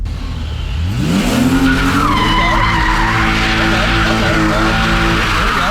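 A car doing donuts, tires skidding and squealing loudly and continuously as the engine revs, a rising screech that settles into a sustained howl, close and alone.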